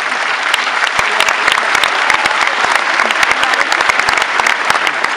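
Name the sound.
audience applause at a musical gala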